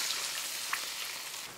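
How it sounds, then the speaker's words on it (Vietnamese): Sauce poured into a hot pan of fried garlic and shallots sizzles with a steady, soft hiss and a brief splash, close and alone. "rồi mình đổ hết phần sốt vừa pha vào"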